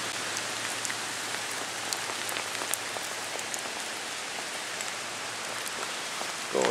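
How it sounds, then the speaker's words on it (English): Steady outdoor rain on a cold 41-degree day, a constant even hiss of drops hitting surfaces with scattered louder individual splats, moderately close and uninterrupted. "It is raining."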